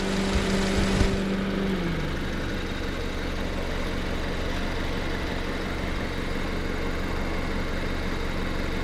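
A car engine idles steadily and fairly quietly in a parking area in Portland, Oregon, holding an even low rumble throughout after a short tonal hum fades out near the start.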